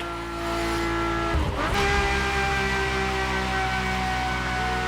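Ferrari supercar engine in the racing video game The Crew Motorfest, a steady loud drone with a brief surge and shift near the middle, then holding a sustained high-revving tone throughout.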